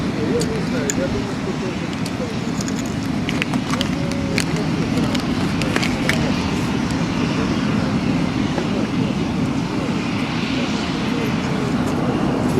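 Antonov An-225 Mriya aircraft on a low demonstration flight at the Aviasvit 2008 air show, its engines giving a steady, loud rumbling roar throughout under crowd noise and a commentator's voice.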